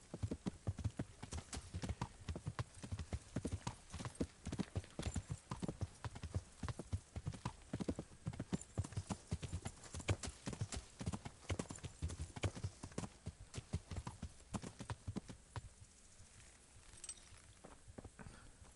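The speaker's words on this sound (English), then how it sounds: "Oh, I can fight on horseback." Horse hooves clip-clop steadily at a fast pace throughout a horseback ride in the medieval game Kingdom Come: Deliverance, loud and close, with a brief whinny and the hoofbeats easing off near the end.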